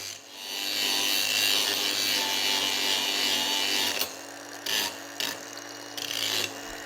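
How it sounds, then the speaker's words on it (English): An angle grinder strips paint and rust from metal on an auction-bought rototiller before welding, a steady loud abrasive whine for about four seconds, then broken into short bursts as the tool lifts off and bites again. "I'm grinding some of the paint and, well, rust, whatever, off of that so that I can have a cleaner surface to weld."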